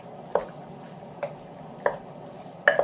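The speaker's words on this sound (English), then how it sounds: "Let's give this another break up and stir." Ground beef is broken up and stirred in a crockpot: four separate, close spoon scrapes and clunks, spaced out over a low, steady background.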